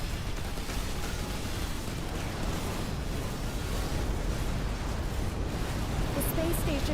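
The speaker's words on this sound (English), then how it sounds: "The space station has been destroyed." A space station explodes in the video game Between The Stars with a dense, continuous roar and rumble that stays loud and even, without a sharp initial bang.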